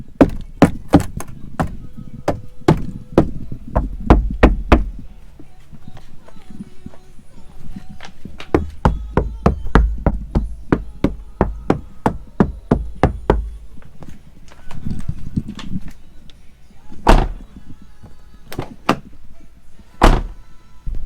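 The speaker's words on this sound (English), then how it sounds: "this is what the door sounds like now." A Toyota Tacoma pickup's door, fitted with sound deadening, shuts repeatedly with solid, dull thunks in irregular bursts, some quick runs of knocks and a few isolated louder slams.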